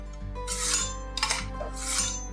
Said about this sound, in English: I begin with anything I'm cooking with this sharpener and this nice chopping knife